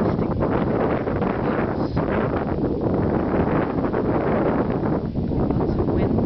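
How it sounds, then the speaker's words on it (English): Strong wind buffets the microphone at a crater viewpoint on Salina in Sicily, a constant loud roaring rush with gusty swells throughout. "Lots of wind."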